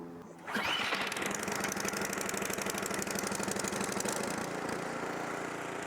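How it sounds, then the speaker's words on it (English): Ariens Deluxe 24 snow blower engine pull-started, catching after a brief tug and then running steadily with a loud, close, rhythmic putter at high throttle. "then we'll give it a pull and see if it starts"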